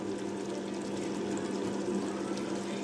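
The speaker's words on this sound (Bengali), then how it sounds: "এখন এখানে দিয়ে দিব আমি 1 টেবিল চামচ কেওড়ার জল।" Kewra water poured from a spoon into a pot of Old Dhaka-style mutton biryani, a steady soft liquid hiss and trickle that runs evenly throughout with no talk.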